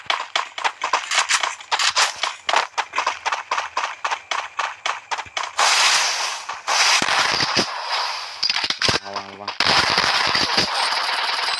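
Rapid machine gun fire from a shooting video game crackles in fast bursts, the rhythm breaking into denser blasts and scattered shots later, with players talking over the gunfire.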